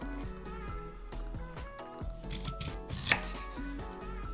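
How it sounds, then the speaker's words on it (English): Knife dicing a peeled beet on a cutting board, steady rhythmic chopping taps heard under loud continuous background music, with a sharper single knock near the end. "Peel and dice the beet."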